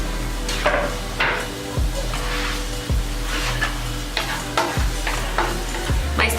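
Beans, meat, corn and jalapenos cook in a pan with a steady sizzle, punctuated every second or so by the scrape and clack of a utensil stirring against the pan, close and without talk.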